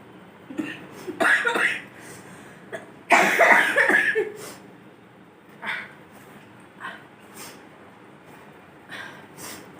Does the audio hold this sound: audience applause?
no